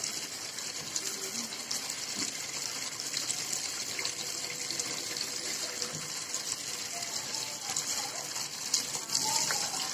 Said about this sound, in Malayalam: ഈ വെള്ളം നല്ല ഫോഴ്സിലല്ലേ വരുന്നത്.